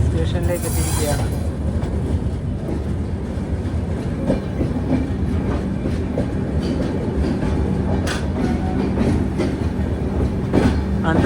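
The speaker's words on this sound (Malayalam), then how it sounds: "ട്രെയിൻ ഇപ്പോൾ ബാറാബങ്കി ജംഗ്ഷൻ സ്റ്റേഷനിലേക്ക് എത്തിയിരിക്കുകയാണ്" The Rapti Sagar Express rolls into Barabanki Junction station with a steady, heavy rumble of carriages and intermittent wheel clatter, while people talk over the train noise throughout.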